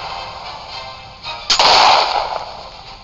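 A diamond shot fires in the mobile tank game Tank Stars, a sharp cannon-like boom with a burst of noise that rings on for about a second, standing alone with no voices.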